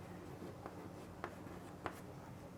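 Chalk or marker strokes on a board while working a class 9 maths polynomial problem, three short taps and scrapes spaced about half a second apart over a steady low room hum, no talking.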